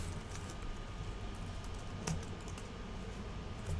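Typing on a computer keyboard while entering code, a fast, steady patter of close, light key clicks running continuously with one slightly sharper tap midway.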